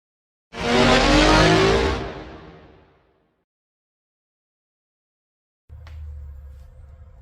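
A Porsche race car from the PlayStation game Porsche Challenge roars loudly for about two seconds, then fades away into silence. A lower, quieter engine hum starts again near the end.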